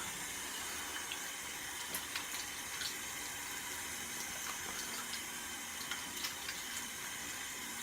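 Water runs steadily from a tap into a sink while someone rinses off after a shave, a continuous hissing splash with small clicks and knocks, no talk.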